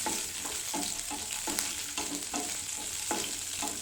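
Five or six small shallots sautéing in a pan for paneer butter masala, with a steady close sizzle and repeated stirring scrapes at a regular pace, no talking.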